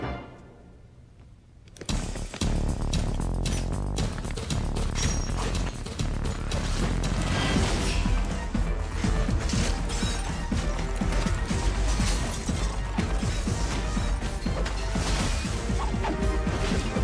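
Dense, loud film fight-scene audio from Ultraviolet, with crashing, smashing and thudding impacts under a driving soundtrack. The sudden onset after a quiet start is followed by continuous chaotic clatter, with no talk.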